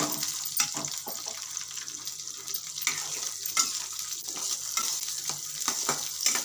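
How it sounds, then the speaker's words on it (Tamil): Onions sautéing in a pan for chicken kuzhambu, with a steady close sizzle and frequent soft scraping stirs of a spatula. "வெங்காயத்தை வதக்கிக்கலாம்."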